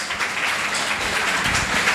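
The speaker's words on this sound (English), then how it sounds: "Can you please give Mr. Alvin Shao a big round of applause?" An audience at a finance townhall claps for a guest speaker: a sustained, even burst of applause from many people in a hall, loud and steady, with no voices over it.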